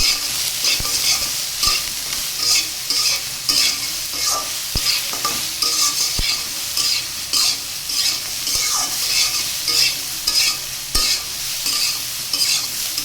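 Soybean chunks and vegetables fry in a pan with a constant bright sizzle while a spatula scrapes and stirs in a steady rhythm, occasional sharp taps against the metal, close up and without voices.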